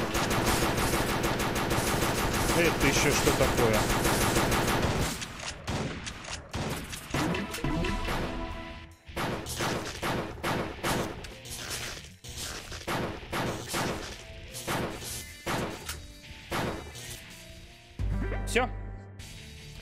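Rapid neon gun fire in the top-down shooter Crimsonland, first a dense continuous barrage, then a long run of sharp repeated shots in uneven bursts, with someone talking over it.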